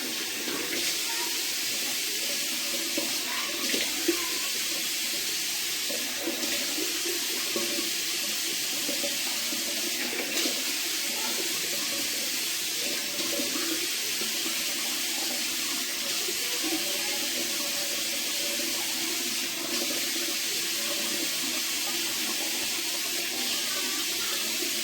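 A bathroom tap runs steadily while someone washes their face, a constant close hiss of flowing water that never pauses, with no talking.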